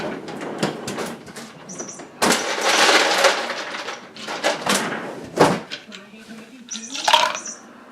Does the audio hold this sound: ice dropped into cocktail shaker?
yes